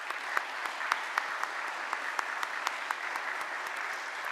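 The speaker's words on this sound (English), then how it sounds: "I think you should all give yourselves a round of applause" Assembled attendees at a university assembly applaud, giving a continuous crackle of many hands with a few sharper, closer claps standing out at irregular intervals, no speech over it.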